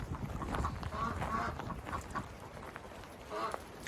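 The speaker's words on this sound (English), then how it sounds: "Now, you've got ducks and other animals here." Ducks quack in a farmyard shared with chickens, several rough honking calls in quick clusters, close and fairly loud against light outdoor background.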